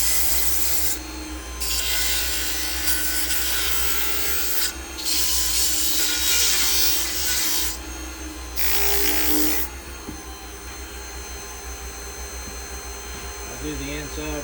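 A wooden cone is hand-sanded with sandpaper, giving a steady close rasping rub that comes in several long strokes over a constant background hum.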